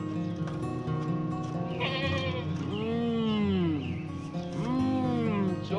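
Goats bleat loudly and close by, two long wavering calls a second or so apart, over a steady background murmur.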